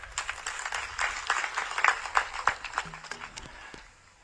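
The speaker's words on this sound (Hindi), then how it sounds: "मैं चाहूंगा कि नरेंद्र मोदी जी के लिए भी आप लोग जोरदार ताली बजाएं।" A crowd at a political rally claps in a brisk, scattered burst that swells, then thins out and fades by the end, with no talk over it.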